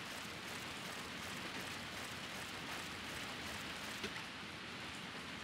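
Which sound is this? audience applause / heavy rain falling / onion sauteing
heavy rain falling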